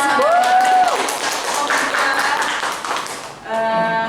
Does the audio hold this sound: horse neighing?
no